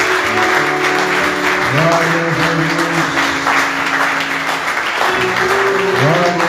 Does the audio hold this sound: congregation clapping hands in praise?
yes